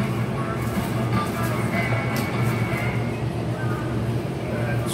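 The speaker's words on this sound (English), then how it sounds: "Sorry for the noise, but I got my furnace going." A furnace runs in a workshop on a cool morning, giving off a steady low roaring hum with faint clanks on top, moderately loud and constant throughout.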